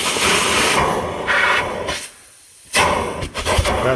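Central vacuum system running with strong suction at a wall inlet in a newly built shop house: loud, close rushing hiss that drops away briefly as the inlet is covered, then surges back.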